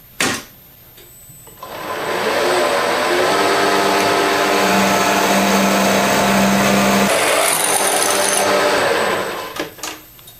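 Power drill whining steadily as it bores a 3/8 hole through a sacrificial plate, loud and close, spinning up after a click and winding down after several seconds of continuous cutting.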